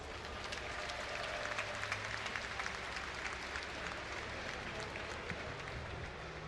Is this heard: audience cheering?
yes